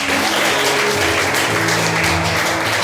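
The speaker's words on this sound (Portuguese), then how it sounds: "Aplauda Jesus." A large church congregation claps loudly and steadily, a dense continuous wash of applause with a low hum beneath it.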